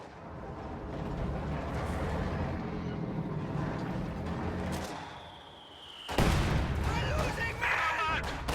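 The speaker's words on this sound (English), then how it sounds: "heavy mortar gets a couple grenadiers there though" Heavy mortar fire in Company of Heroes 2: a whistling incoming shell followed by a sudden loud impact blast, set against a rumbling battlefield backdrop of distant fire and commentary speech.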